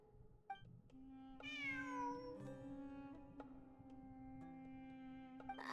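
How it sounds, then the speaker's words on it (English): A cat meows repeatedly inside the Genshin Impact game, rising and falling calls standing out clearly over a steady in-game ambient hum, with no one speaking. "I'm not hearing things. It really is a cat."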